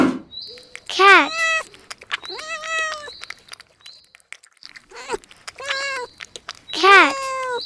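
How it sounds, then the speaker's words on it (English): A cat meows repeatedly, about five separate rising-and-falling cries spaced out over several seconds, moderately loud and close, with nothing else around them. "Cat"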